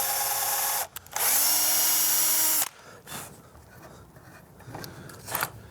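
Power tool driving an M3 tap into a hole in a Halloween ghost trap prop: a brief burst, then a loud steady whine for about a second and a half, followed by quieter handling noises.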